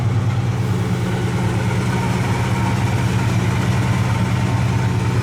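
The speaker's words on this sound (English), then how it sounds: "this is a 326 numbers matching motor, and it is, you know, it's got a 4-barrel on it, so it sounds good" A 1967 Pontiac Le Mans with its numbers-matching 326 V8 and four-barrel carburetor idles steadily, a deep, even rumble that holds close and constant from start to finish.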